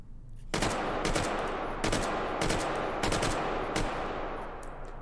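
A suppressed gun fires in the VR game Hot Dogs, Horseshoes & Hand Grenades, several loud, sharp reports spaced about a second apart over a constant rushing background, with no talking.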